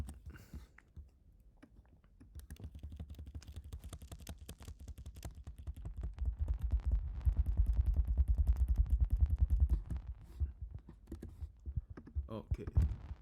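Keys clack on a computer keyboard in quiet, rapid runs of typing that grow busier partway through, with faint speech in the background.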